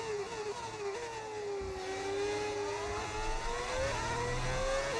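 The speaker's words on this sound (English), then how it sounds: "The engine sounds different." Modded race car engine in the F1 26 video game drones steadily for several seconds, its pitch rising and dipping as the car accelerates and shifts, heard alone without talk.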